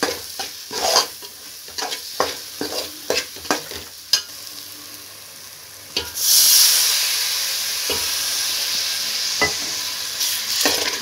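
Masala with green chillies stirred in a pan for a Tamil fish curry: a run of rhythmic scraping stirs, then a loud burst of sizzling hiss when water is sprinkled in, easing into steady frying, with no talk.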